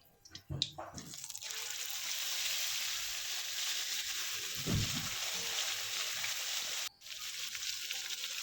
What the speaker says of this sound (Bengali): আর একে একে এই মাংসটা, ম্যারিনেট করা মাংসটাকে আমি দিয়ে দেবো।